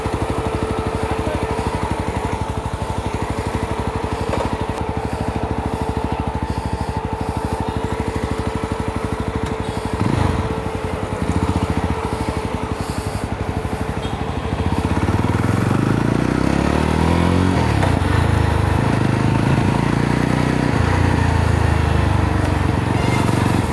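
A Yezdi Roadster 334cc motorcycle engine runs steadily throughout, revving and rumbling louder toward the end as the bike gets moving.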